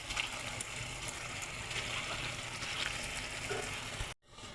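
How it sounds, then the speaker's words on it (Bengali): Small lentil fritters deep-frying in hot oil give a steady, dense bubbling sizzle that runs evenly for about four seconds before cutting off abruptly. "ছোটো ছোটো করে ছাকা তেলে বড়াগুলো পুরো ভেজে নেবো"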